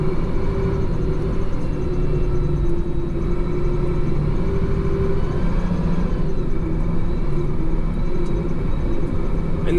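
A Grove TMS9000 truck crane with an Eaton automatic transmission pulls away in fourth gear, its engine a steady, heavy low rumble with a constant mechanical drone and no break throughout.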